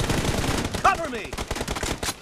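Bursts of rapid gunfire in PUBG Mobile, sharp repeated shots crackling close in quick succession alongside brief in-game voice callouts.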